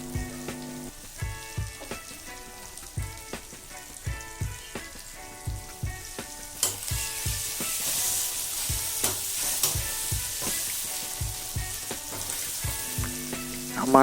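Onion, garlic, ginger and spices frying in a pan, a constant crackling sizzle broken by regular scraping stirs of a spatula, close and fairly loud with no talking.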